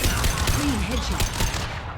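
Mass Effect gunfire during a headshot, a continuous busy stretch of shots and combat noise at steady loudness, with a faint voice mixed in.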